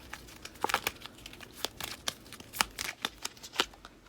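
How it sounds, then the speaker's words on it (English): A deck of playing cards is given a quick shuffle: a burst of crisp riffling and snapping clicks, close and fairly loud, with uneven bursts over about four seconds and no speech. "Do a quick little shuffle here."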